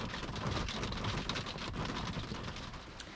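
Steady rain falls on a parked vehicle in a Black Forest car park, a dense even hiss of drops that stays loud and constant throughout with no voices.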